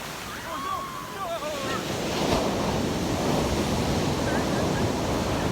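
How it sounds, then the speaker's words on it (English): Powerful Pacific Ocean waves break and wash onto a cold California shore in a continuous, loud roar of surf, with wind buffeting the microphone. "Those powerful waves."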